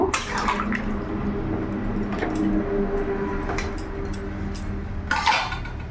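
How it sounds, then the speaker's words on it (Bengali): A soybean, potato and papaya curry stirred in a pan over a raised gas flame, with a soft continuous hiss and a few sharp clinks and scrapes of the spoon against the pan. "গ্যাসের ফ্লেমটা আমি একটু বাড়িয়ে দিলাম আর ভালো করে নাড়াচাড়া করে নেব"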